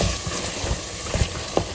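Mutton for a gongura mutton curry fries in a pan, giving a steady close hiss and sizzle with a few faint pops and clicks scattered through it.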